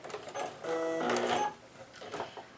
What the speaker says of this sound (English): you just want to sew down both sides of that drawn line